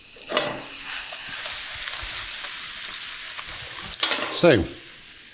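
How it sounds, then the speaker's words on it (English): Cep mushrooms fry in a pan with a steady close sizzle and hiss, broken by a few stirring scrapes, while someone speaks briefly near the end. "The ceps are cooking."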